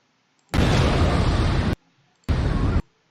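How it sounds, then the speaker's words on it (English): Explosion sound effect previewed in the Shotcut video editor: two loud, close roaring blasts, a long burst of more than a second, then a shorter one after a brief gap, with no voices. "How about we use this explosion one?"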